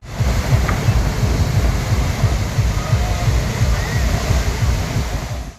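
Water gushing out of the newly laid Ujani–Solapur parallel pipeline as it is deliberately flushed during testing, a loud, steady roaring rush close by, with a faint voice underneath.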